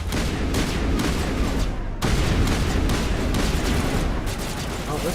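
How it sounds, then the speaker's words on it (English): Rapid video-game gunfire from a Mass Effect weapon rattles in dense, continuous bursts, loud and close. A sharp break comes midway before the shooting resumes just as thick, with no talk over it. "Oh, this gun fires very differently."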